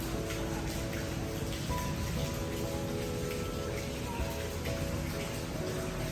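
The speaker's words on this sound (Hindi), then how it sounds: "बारिश ज़्यादा तेज़ हो गई है।" Dense, steady rain pours continuously in Pakistan, a broad hiss of drops hitting surfaces that stays loud and unbroken throughout.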